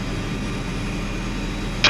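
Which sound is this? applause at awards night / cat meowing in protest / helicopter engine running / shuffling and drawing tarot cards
helicopter engine running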